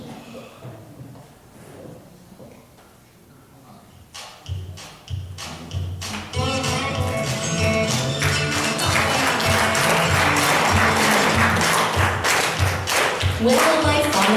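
Scattered claps and taps from the audience at a live Saturday variety show, building into a performance of a country song with music and singing that carries on loudly to the end.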